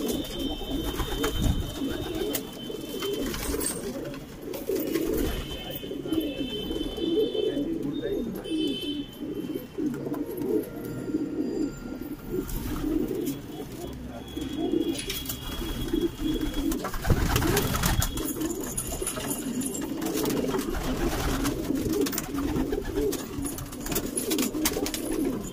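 Pigeons coo continuously in a loft, a dense layer of low, throaty calls overlapping throughout, with faint flutters and scattered chirps in the background.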